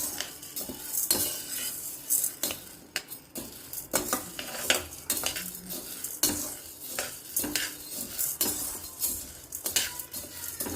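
Chana dal roasts in a pan over a low flame while a metal spoon stirs and scrapes it constantly, giving repeated clinks and scrapes over a faint dry sizzle.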